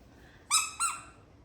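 A small squeaky pet toy bought for a dog named Bertie is squeezed twice in quick succession, each squeeze giving a bright, high, whistling squeak, loud and close against quiet background.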